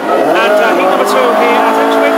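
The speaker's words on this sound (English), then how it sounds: "Beautiful sound to that cross-flow engine" A classic hot rod with a cross-flow engine roars loudly at Ipswich speedway, its rising throaty engine note running throughout while a commentator talks over it.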